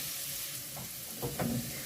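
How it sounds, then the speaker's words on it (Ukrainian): Zucchini frying in a pan with fat, a steady soft sizzle with a few brief louder spits and stirring scrapes near the end, close and alone without talk. "Вони так гарно смажуються."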